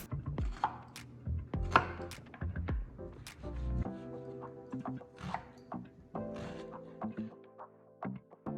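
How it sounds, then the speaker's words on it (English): A knife chops vegetables on a cutting board for cowboy baked beans and coleslaw, with irregular close taps and knocks and small rattles in a quiet kitchen. "Now that I've chopped up my veggies"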